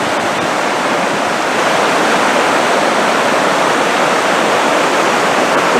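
Loud, constant rush of river water pouring over rock ledges at Grand Ledge, Michigan, a dense unbroken roar with no voices.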